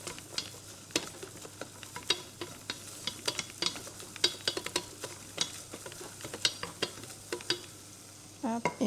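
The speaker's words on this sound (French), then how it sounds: "on ne s'arrête pas de mélanger parce que ça attache très très vite" Spoon or whisk stirs a flour-and-butter roux for béchamel in a pan, producing soft continuous scraping and clicking against the pan over a faint sizzle, close and fairly quiet.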